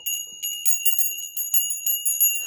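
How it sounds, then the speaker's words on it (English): A small bell rings in quick repeated shakes, its bright, clear metallic tone coming in short, regular bursts close by with no talk. "Let me ring my bell."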